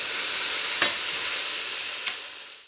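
Brown button mushrooms and rosemary sizzle steadily in a hot nonstick pan, a continuous close hiss with two brief sharper bursts and no talking.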